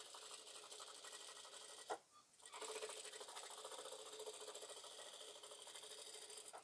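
A sewing machine stitches a Mao-collar dress in a steady, fast whirring run. The run pauses briefly near the start and then picks up again, close and continuous.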